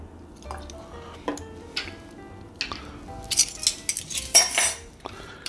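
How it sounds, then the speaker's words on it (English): A spoon stirring homemade low-carb Kahlua in a container, with close metallic clinks and scrapes against the sides, some liquid swishes and drips, irregular strokes that grow busier and louder toward the end. "Give that another quick little stir."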